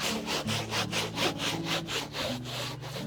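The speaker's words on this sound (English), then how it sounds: "With your sandpaper, I go one direction and then I turn it sideways" Sandpaper scuffing the surface of a wooden hat box, steady rhythmic back-and-forth rasping strokes, about three per second, close and loud with no voices.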